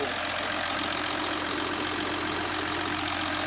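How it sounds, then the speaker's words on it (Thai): A Sany SY205C excavator's diesel engine with 7,000 hours idles at close range, a steady low rumble with an even mechanical knock and no other sound. "เครื่องยนต์นิ่งมากเลยเจ็ดพันชั่วโมง"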